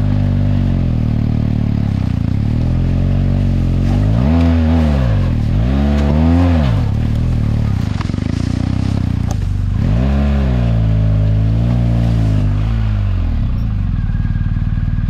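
An enduro motorcycle on an off-road trip through Bosnia-Herzegovina starts up and idles loudly and close, with four or five strong throttle blips that rise and fall before it settles back to a rough idle.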